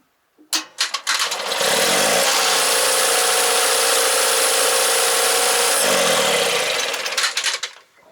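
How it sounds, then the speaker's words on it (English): A 1968 Kohler 6.5 kW marine generator engine cranks, catches and starts, then runs loud and steady at close range for several seconds before winding down and stopping. "I'm going to turn the thing on, and if it's going to work, then the choke should move clockwise."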